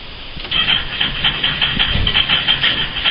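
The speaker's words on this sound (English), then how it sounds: "as you can hear, it's spinning the engine over, and it did actually cough and tried to start" A car engine cranks over on its starter motor, powered by a lithium-ion battery, with a fast rhythmic churning that holds steady and close for about three seconds without catching.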